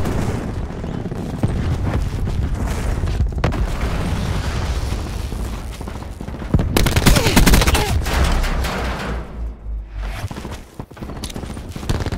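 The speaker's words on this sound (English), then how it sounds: "Throwing cluster grenade." Cluster grenade in Black Ops 4 on the Firing Range map, a loud burst of several rapid blasts and crackling detonations mixed with gunfire, rising sharply midway then fading.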